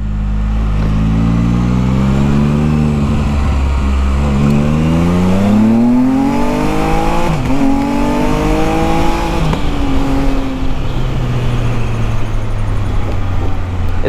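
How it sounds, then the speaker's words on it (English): A Can-Am side-by-side with the 1330 engine downshifts and then accelerates, its loud, close engine note sweeping up through rising and falling revs over several gear changes with no one talking. "The 1330 motor definitely has more power than the older one, than the 990."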